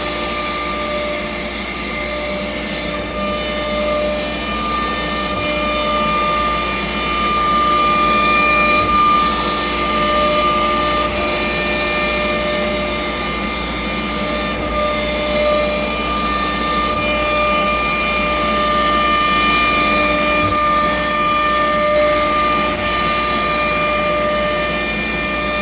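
An Altmill CNC router mills a pocket into a shaker-style cabinet door, a loud, continuous high spindle whine with steady tonal lines over a rushing cutting noise, holding constant with slight swells as the bit moves.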